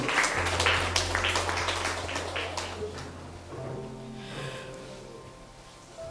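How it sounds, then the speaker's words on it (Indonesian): Applause from an evening gathering on love of homeland, a busy patter of clapping that fades over several seconds, leaving low hum and faint room noise. "tepuk tangan yang meriah untuk kita semua pada malam hari ini"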